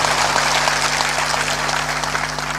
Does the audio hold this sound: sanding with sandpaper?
no